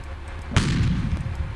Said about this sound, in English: Loaded. Target seen. Firing now.